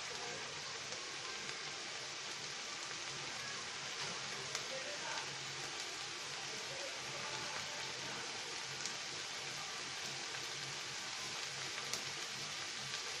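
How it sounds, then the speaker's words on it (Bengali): Rui fish roe fries in a pan with spices, a continuous dense hiss of oil that stays even and fairly faint throughout, with no pauses or talking. "এখন আমি এটা ভালো করে কষিয়ে নেব।"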